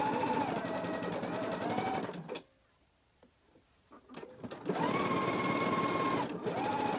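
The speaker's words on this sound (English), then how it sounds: "I'm going to stitch it at a 5/8 of an inch seam allowance using a zigzag stitch" A sewing machine runs a zigzag stitch along a 5/8-inch seam in knit fabric, in two close, steady bursts separated by a quiet pause with a few faint clicks.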